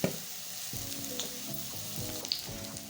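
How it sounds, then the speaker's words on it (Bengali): Pieces of ridge gourd fry in hot oil with a steady close sizzle, joined by a few faint scrapes and taps from stirring, while soft background music plays. "ওই তেলে আমি ঝিঙেগুলো ভেজে নেব"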